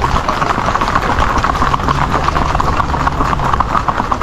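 Horse hooves clip-clop at a steady, brisk rhythm on a ride near a beach in Puerto Rico, loud and close throughout, with a faint snort or whinny.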